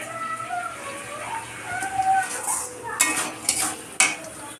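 Fried potatoes are stirred into chicken curry frying in a pan, with a soft sizzle under scraping spatula strokes and several sharp metallic clinks toward the end.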